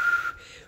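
A single short, breathy whistle, thin and wavering, fading into airy breath after a fraction of a second.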